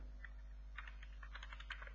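Typing on a computer keyboard while coding, quick irregular clicks of keys struck close by, soft and steady over a low electrical hum, with no speech.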